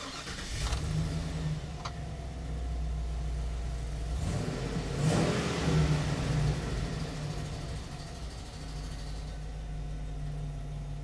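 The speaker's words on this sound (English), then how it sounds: "So now I'm gonna start the engine." A Chevy truck with O2 sensor heater faults (codes P0054 and P1174) cranks and fires about midway, then settles into a steady, close, even engine run.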